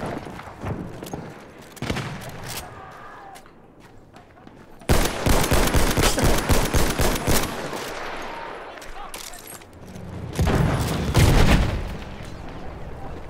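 Bursts of gunfire crackle in rapid volleys in Battlefield 1 multiplayer, with sharp repeated shots clustering in dense stretches and quieter gaps between.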